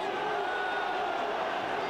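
A home crowd at a 1994 English football match roars in a sustained, broad wash of cheering from the terraces, steady and loud, with a commentator's voice running over it.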